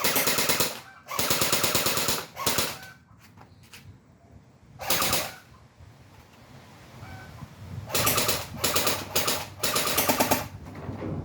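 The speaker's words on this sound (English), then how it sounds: "we're gonna shoot semi-automatic first, and then we'll shoot a full auto" A WWII-era MP40 submachine gun fires outdoors in loud bursts of rapid automatic fire, several separate strings of shots with short quiet gaps between them.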